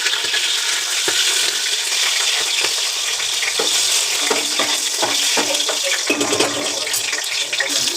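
Bay leaf, cardamom and cinnamon sizzle and crackle in hot oil at the start of a spicy mushroom biryani, a steady close frying hiss with occasional stirring taps.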